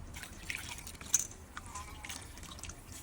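Grated santol fruit, about two kilos, squeezed by hand so its liquid drips and trickles into a bowl, faint irregular drips over a quiet background.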